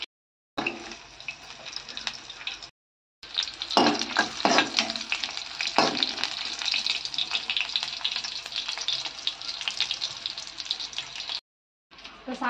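Onions hit hot tempering oil with popped mustard seeds, cinnamon and chilies for a drumstick-leaf sambar, giving a loud, steady sizzle with scraping stirs and short pauses where the sound drops out.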